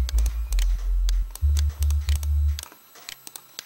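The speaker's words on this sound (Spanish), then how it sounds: "el bajo lo vengo reponiendo con un Silent One, con este preset que se llama Bass Ultra, que suena así" A Sylenth1 bass preset called Bass Ultra played in FL Studio gives deep, loud sub-bass notes in short rhythmic bursts that stop near the end, leaving brief silence.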